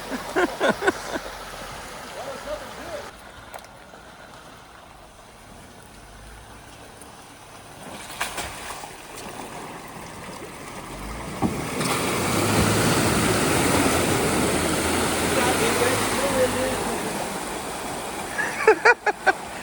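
Water pours off an off-road vehicle like a waterfall on an Ozarks overland trail, a broad rushing wash that swells toward the end, with the engine and outdoor noise around it and a few brief exclamations.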